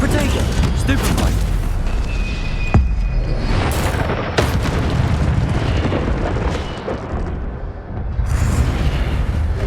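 Spell-casting effects ring out during a wizard duel in the Hogwarts Legacy video game, with dense crackling bursts and booms layered over a continuous loud battle bed, plus a voice speaking among them.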